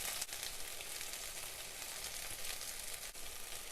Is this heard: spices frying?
yes